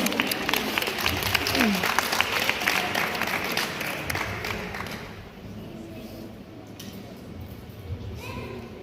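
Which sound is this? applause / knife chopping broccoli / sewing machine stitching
applause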